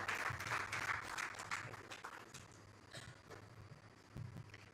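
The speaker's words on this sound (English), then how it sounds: "Let's all welcome her with a big round of applause." Audience applause at the Andhra Pradesh Global Investors Summit 2023 in Mumbai, a continuous faint wash of clapping from a distant crowd that gradually thins.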